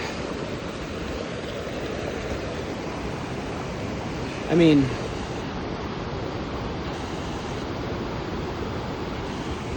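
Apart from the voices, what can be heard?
small waterfall, water flowing down creek trail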